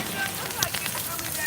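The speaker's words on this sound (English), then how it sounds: "It's just a lot of rain." Heavy rain pours steadily outdoors, a dense, even hiss with scattered patters and drips close by, holding at a constant level throughout.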